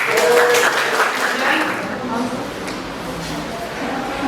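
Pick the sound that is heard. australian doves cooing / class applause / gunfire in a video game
class applause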